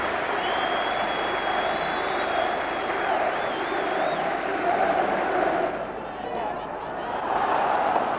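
A large football crowd of more than 30,000 at Stamford Bridge on the opening day of the season, a steady roar of cheering and chanting that holds throughout, dipping briefly near the end before swelling again, with a whistle-like tone threading above.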